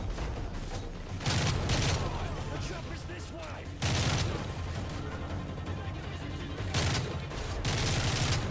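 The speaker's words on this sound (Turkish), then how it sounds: "Şuraya bir bomba sallayalım." Gunfire and explosions sound in the video game Call of Duty Modern Warfare 3 after a bomb is thrown, dense rattling shots with repeated heavy booming bursts throughout, loud and continuous.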